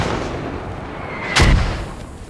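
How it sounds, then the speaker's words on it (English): A single heavy mortar blast booms close by in the video game Squad, a sharp loud impact with a rumbling tail over a constant background of wind and battlefield noise. "Calling for a cease on mortars"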